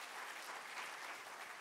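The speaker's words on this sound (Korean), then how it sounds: "수고한 분들에게 박수로 한번 감사 표시합니다" A church congregation applauds in thanks, a brief, continuous wash of many hands clapping at low level without voices standing out.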